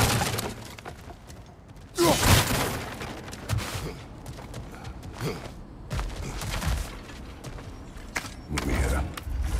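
Objects smashed apart in the God of War Ragnarök game, a string of sharp breaking and shattering crashes with debris, the loudest burst early and several smaller impacts following at irregular intervals.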